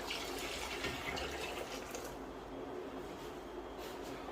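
Water, about one and a half jugs, pouring steadily into a pot for Punjabi kadhi pakora, a continuous splashing rush that softens and thins toward the end.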